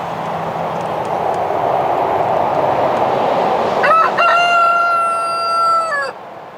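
A rooster crows once, loud and near, a drawn-out cock-a-doodle-doo rising out of steady outdoor background noise near the end.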